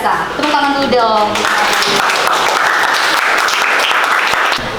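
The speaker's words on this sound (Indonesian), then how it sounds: "Tepuk tangan dulu dong." A classroom of students claps together in a brief burst of applause, loud and close, with a voice speaking over the start.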